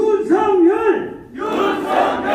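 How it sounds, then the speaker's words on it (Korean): A political rally crowd chants the candidate's name Yun Seok-yeol in unison, two loud rhythmic shouted phrases with a short dip between them, voices massed together and close. "박수 때 윤석열을 크게 한번 외쳐주시기 바랍니다"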